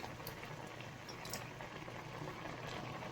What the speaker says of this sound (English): Normally I would let the water boil. On this, it boils pretty quick.